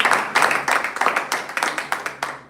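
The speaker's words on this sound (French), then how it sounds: "On peut applaudir le Seigneur pour ça." A church congregation clapping together during a sermon, a steady run of sharp, fairly rhythmic hand claps, moderately close, with no talking over it.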